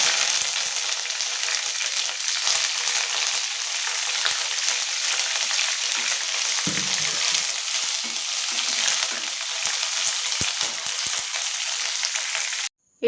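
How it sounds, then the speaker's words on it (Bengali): Mustard seeds spluttering and curry leaves sizzling in hot oil, a loud continuous frying hiss with scattered crackles and pops close up, cutting off abruptly at the end. "সর্ষেটা একটু ফাটা শুরু করলেই আমি এতে এক এক করে যে কারি পাতাগুলো ছিল সেগুলো আমি দিয়ে দেব।"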